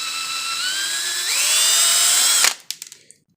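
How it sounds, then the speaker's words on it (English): Power drill pulls a spent primer out of a force-on-force training ammunition case: a steady high-pitched whine that rises in pitch partway through, then cuts off into a few light clicks and rattles as it winds down. "pull back on the drill slowly"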